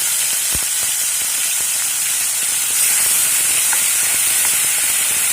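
Onion, ginger and green chilli paste sizzles steadily in a hot pan, a continuous close hiss and crackle with a few small pops, no voices over it.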